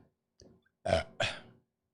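A voice imitates a burp in two short, loud, throaty bursts, preceded by a brief softer vocal sound, then silence.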